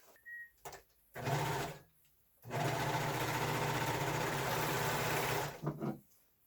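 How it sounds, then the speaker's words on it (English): A serger overlocks the edge of a fabric mask's filter pocket: short whirring bursts, then a steady close-up run of about three seconds that stops abruptly. No one speaks. "So I'm going to serge this real quick."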